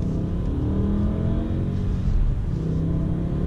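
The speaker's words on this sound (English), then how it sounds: "this is auto mode, fastest shift speed in auto mode" A BMW E60 M5 with SMG gearbox in auto mode at its fastest shift setting drones steadily as it accelerates, with a brief dip and surge in engine note partway through, loud and close from inside the car.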